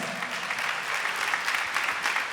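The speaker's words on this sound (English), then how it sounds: "Give those dancers a nice big round of applause." Audience applause for scholarship dancers at a college scholarship announcement, a dense, even burst of clapping throughout.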